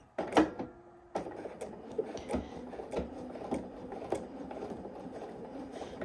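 Sewing machine stitching across the front of a Cashmerette Canton coat, a quiet, steady run of needle ticks and motor hum with a few sharper clicks near the start.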